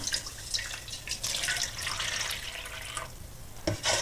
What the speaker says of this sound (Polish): oraz wlewam wodę.